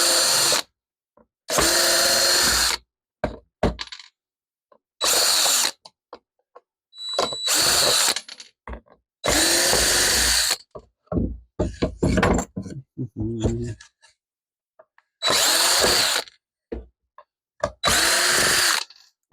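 A power drill backs screws out of cheap wood on a scroll saw stand, whirring in repeated short bursts of a second or two, separated by silences and small clunks and taps, close and loud.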